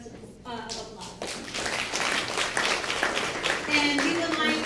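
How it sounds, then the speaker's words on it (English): An audience claps for the speakers at an accessory dwelling unit (SB 13) event, applause building from scattered hands to fuller steady clapping, with a voice heard briefly at the start. "Please give them a big hand of applause."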